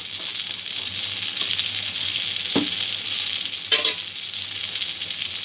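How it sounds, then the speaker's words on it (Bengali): Ghee sizzling and frying in a pan while chana dal barfi is cooked, a steady close hiss with a couple of brief stirring scrapes partway through. "আর একটু ঘি আমি যোগ করলাম।"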